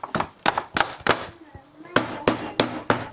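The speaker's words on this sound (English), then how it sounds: "Sometimes you're going to have to tap it off with a hammer." Hammer tapping a bogey wheel off its bearing on a snowmobile rear suspension, a series of about ten sharp metallic knocks in an uneven rhythm, close and fairly loud, with a brief pause midway.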